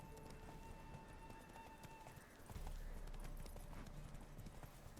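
Horse hooves pound in a steady galloping clip-clop during a race in the video game The Witcher III: The Wild Hunt, faint and continuous under a low background wash.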